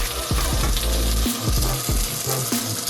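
Succotash is stirred in a hot pan, a close, continuous sizzle and fry with repeated scraping strokes of the spoon through the vegetables.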